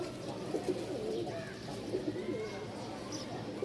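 A pair of black pigeons, male and female, coo in low rolling calls close by, with steady background noise and occasional voices under the cooing.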